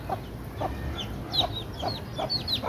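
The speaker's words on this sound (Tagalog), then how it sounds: "ang daming sisiw nito" Many chicks peeping together, a steady flurry of high, thin chirps repeating every half second or so, with soft clucking from hens underneath and a faint outdoor background.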